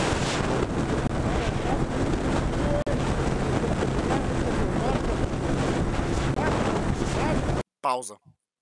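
Steady, heavy wind buffeting roars against the microphone of a riding motorcycle for several seconds, then cuts off abruptly into a brief muffled sound.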